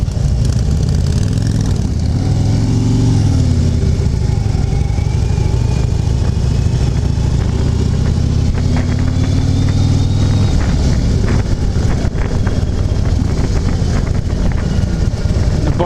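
A Harley-Davidson Street Glide on a test ride during Myrtle Beach bike week, its engine droning loud and steady while heavy wind buffets the microphone, pitch rising and easing throughout.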